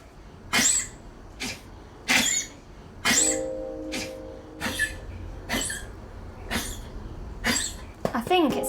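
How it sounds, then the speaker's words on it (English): A rescued primate named Dolly coughing, a series of short sharp bursts repeating at roughly one-second intervals, fairly close, with faint background noise and a brief voice near the end. "I'd say that's a bit of a cough."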